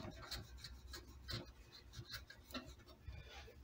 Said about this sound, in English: Scrape the glue.